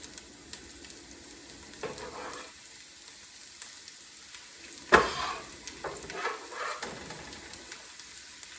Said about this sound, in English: now we're going to come in with some onions. And try to use a good sweet onion.